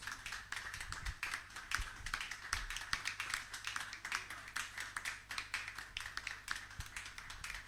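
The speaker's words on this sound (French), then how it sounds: "Est-ce qu'on peut acclamer Jésus?" A church congregation applauds in praise of Jesus, with dense, steady clapping from many hands filling the space at moderate loudness for several seconds and no speech over it.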